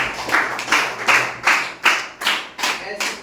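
A small audience at a Ramayana quiz claps for a correct answer with a handful of distinct bursts of hand claps, rhythmic and fairly close.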